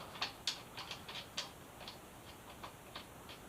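A long bolt being loosened with a ratchet during a Honda Rebel motorcycle rebuild, a faint, quick run of dry clicking pawl ticks in uneven bursts, close by and without talk.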